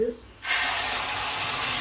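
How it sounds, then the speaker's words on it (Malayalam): Water poured into a hot pan while making kesari bursts into a loud, steady hiss that starts abruptly after a brief quiet moment and holds at full strength. "നമുക്കിതിലേക്ക് വെള്ളം ഒഴിച്ചു കൊടുക്കാം"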